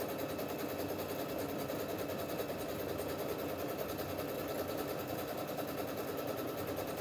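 A Pfaff Expect 350 sewing machine stitches a decorative scallop, its motor running in a steady, close, even whir with a fast mechanical patter throughout.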